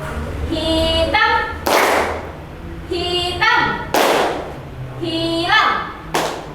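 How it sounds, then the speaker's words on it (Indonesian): Children clap in unison during a classroom clapping game, sounding three rounds of sharp, loud group claps, each round a quick burst of two or three claps, with a teacher's voice speaking between the rounds. "Kalau Ibu bilang hijau, tepuknya 2 kali"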